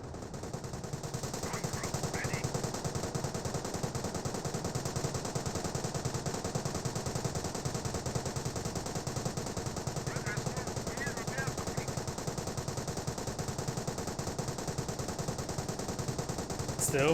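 Steady machine-gun fire in Company of Heroes, a real-time strategy game, a continuous rapid rattle sustained throughout at moderate distance, with a commentator's voice speaking over parts of it.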